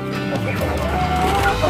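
Village chickens cluck close by in a busy, continuous flock, with overlapping calls filling a short, loud stretch.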